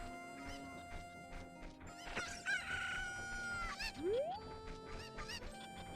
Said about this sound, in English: I pick up a chicken.